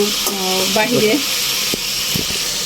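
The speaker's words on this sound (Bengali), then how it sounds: "এটা ভাজতে দিচ্ছি, এটা ভাজা হোক" Food sizzles in a pan over low gas heat, a steady frying hiss with a few soft knocks, while a voice speaks briefly over the start.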